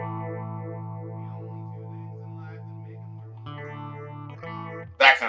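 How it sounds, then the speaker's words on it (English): An electric guitar runs through a Warm Audio Mutation Phasor II phaser pedal in a warm outlaw-country style, sustained chords sweeping slowly, with a chord change midway and a sharp pick scrape at the end. "we found very easily that outlaw country, what I would call like a Texas phaser sound"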